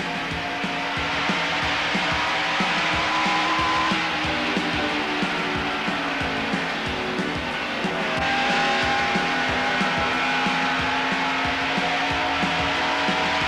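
Stock race cars, including a Buick, roar around the track in a televised race: engines drone loudly and continuously, with overlapping cars rising and falling in pitch as they pass.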